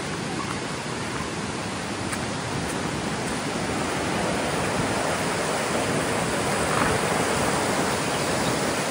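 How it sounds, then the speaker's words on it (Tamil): A forest waterfall at Valparai pours with force, its water racing like a small wild stream; a dense, unbroken roar holds steady and loud throughout with no pauses. "தண்ணி வரங்க எவ்வளோ ஃபோர்ஸாக போகுது."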